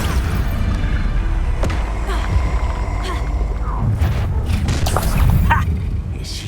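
Heavy booms and crashing impacts from the Expulso blasting spell in Hogwarts Legacy, with several sharp hits scattered over a rumbling, busy battle backdrop.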